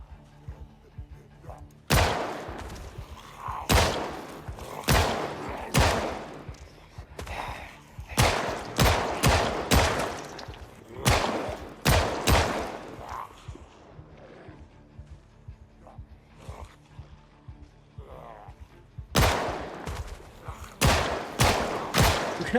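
M9 pistol fire in Project Zomboid: loud, sharp shots come singly and in quick clusters, with short pauses between volleys and a final rapid string.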